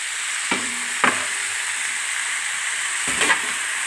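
Cubed chicken breast being sautéed with softened onions in a pan for a protein-rich chicken stew, giving a steady sizzle broken by a few sharp stirring scrapes and clinks, close and moderately loud, with no talking.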